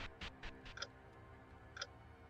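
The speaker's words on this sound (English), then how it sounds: "The default clock sound, who uses that anymore?" Default clock sound in the Hello Charlotte game, quiet and steady with several evenly spaced ticks, then two brighter chime-like clicks within the pattern, heard alone with no voices.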